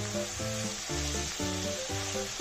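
Spices fry with dried fish in a pan, a steady bright sizzle running throughout beneath a tonal musical backing.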